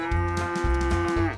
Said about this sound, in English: Sometimes the whole field goes moo,